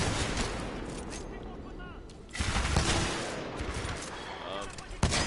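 Gunfire in the video game Titanfall 2 sounds as dense, continuous automatic bursts and blasts over busy battle noise, loud and sustained, with a player talking over it.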